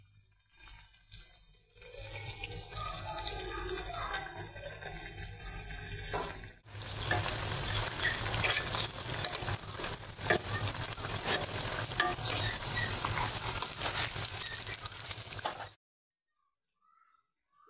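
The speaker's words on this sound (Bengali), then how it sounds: "যে আলুর চপগুলো ভেজে নিচ্ছি।" Potato chops deep-frying in oil, a loud steady bubbling sizzle that swells sharply after a quieter opening stretch with some handling, then cuts off abruptly to silence near the end.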